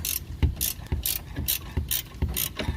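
A ratchet wrench clicks on a control arm bolt of a Chevy Impala during front lower control arm replacement, a close, even series of about six ratcheting bursts with no speech.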